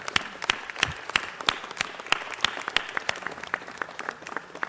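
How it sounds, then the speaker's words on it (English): An indoor city council meeting crowd claps for neighborhood council representatives, a steady round of moderate applause with sharp individual claps standing out, lasting several seconds. "Let's give them a round of applause."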